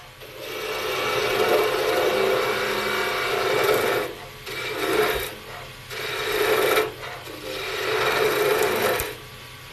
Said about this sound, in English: So these are plain cuts using the toe or the short end of the skew